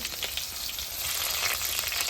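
Loud, dense sizzling and crackling of ginger and garlic frying in hot oil, continuous and close, with no voices.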